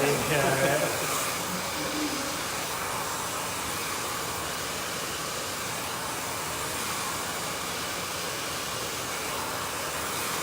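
A brush blow dryer runs steadily while drying and polishing a layered bob, a loud continuous airy whoosh held close throughout with a brief voice at the start.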